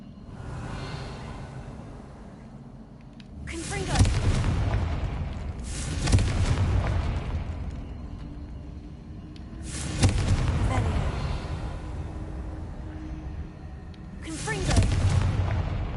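Three heavy blasting-spell explosions from Hogwarts Legacy, each a sharp loud boom followed by a rumbling decay, spaced roughly every five seconds with a voice speaking between them.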